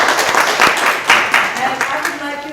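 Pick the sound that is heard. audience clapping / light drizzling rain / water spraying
audience clapping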